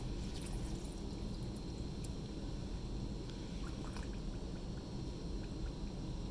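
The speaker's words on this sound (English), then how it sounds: "And then I just need to fill it up with water." About a cup of water poured from a Pyrex cup into a rock tumbler barrel holding rocks, a steady, continuous rushing pour that fills the whole stretch with no talking.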